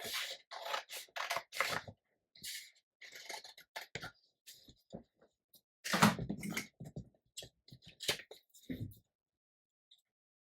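Scissors cut out a paper pocket flap for a junk journal page, giving close, crisp snips in short irregular bursts separated by brief pauses.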